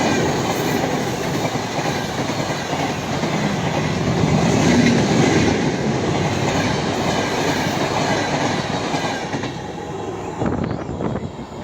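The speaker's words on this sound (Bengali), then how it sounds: "উক্ত ট্রেনটি প্রথমবারের মতো নড়াইল অতিক্রম করে যাচ্ছে" A train on the Padma Rail Link, running from Dhaka to Khulna, passes through Narail with a loud, continuous rumble and rhythmic clickety-clack of wheels on rails that lasts throughout, with some faint squealing toward the end.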